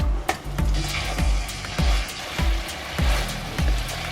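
Regular dull knocks and scrapes, about one every half second, as braised pork belly is stirred in a pot over a low background hiss.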